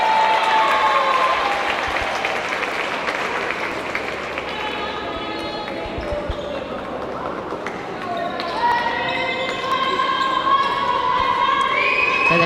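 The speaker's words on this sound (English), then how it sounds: "There's people cheering and clapping." Crowd at a netball match in Tūranga, cheering and clapping loudly throughout, with a voice talking over the noise and squeaky shoe or ball sounds from the court.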